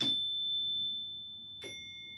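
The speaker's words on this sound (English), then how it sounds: "when I hit this Pavlovian bell" A single bell struck twice, a clear metallic ring of about 633 hertz that sustains and slowly decays, the second strike quieter and followed by a long fading tone.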